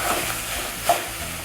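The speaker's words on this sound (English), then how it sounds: "Hear that sizzle?" A pound of hamburger meat sizzling in an overly hot pan, a steady close frying hiss running throughout with a brief louder spatter near the middle.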